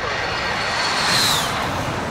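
Helicopter in the video game Warzone, a steady broadband rotor and engine wash heard at moderate distance, swelling slightly near the middle, with a faint whine on top and no talk.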